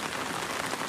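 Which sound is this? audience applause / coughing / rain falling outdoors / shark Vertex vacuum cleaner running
rain falling outdoors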